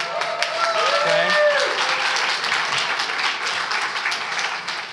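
A hometown crowd at a public library author event applauds in sustained, even clapping that swells and then slowly tapers off, with a few faint voices mixed in.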